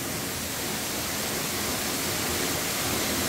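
The roughly 20 m Suok waterfall in Goesan pours down onto a rock shelf inside a rock-walled gorge, a steady, broadband rushing roar with no pauses or voices.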